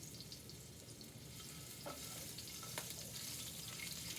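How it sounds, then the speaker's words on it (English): Shrimp searing in a pan of extra virgin olive oil gives a steady, close sizzle that holds evenly throughout, with a couple of faint clicks midway. "pan sear the shrimp"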